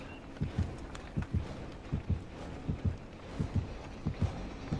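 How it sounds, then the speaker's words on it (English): Low, thudding double-beat heartbeat warning from the killer in the horror video game Dead By Daylight, pulsing in steady pairs about every second and fairly loud over a faint ambient game bed. "I can hear the heartbeat going off"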